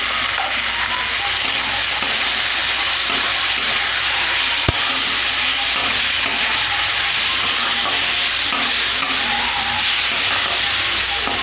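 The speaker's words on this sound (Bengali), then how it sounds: "আর মাংসটা ভালো করে কষিয়ে নেব" Chicken pieces with salt and turmeric sizzle loudly and continuously in a hot pan, with stirring strokes throughout and one sharp click midway, and no voices.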